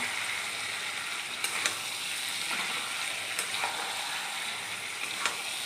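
Chicken for a thin potato-chicken curry, cooked down until the oil separates, sizzles quietly and steadily in a pan, with a few faint clicks from stirring and no speech.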